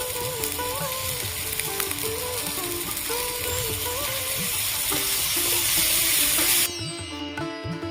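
Garlic paste fries in a pan with a loud, steady sizzle that cuts off abruptly near the end, over faint tonal background sounds.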